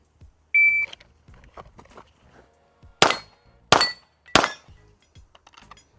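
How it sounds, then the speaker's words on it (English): Electronic shot timer sounding a short high beep as a start signal during live-fire entry training with steel targets, followed by three sharp, loud gunshot reports spaced under a second apart, with quieter handling noises between. "It's kind of just using the timer as a start signal."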